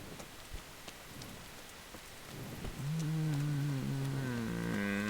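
Steady rain falls in the medieval setting of the game Kingdom Come: Deliverance, a constant wash of drops that grows louder midway as a low, sustained droning tone rises over it.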